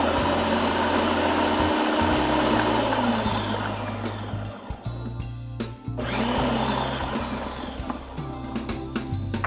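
A blender whirs loudly while blending gazpacho and emulsifying olive oil, its motor pitch shifting as it is stopped and restarted a couple of times.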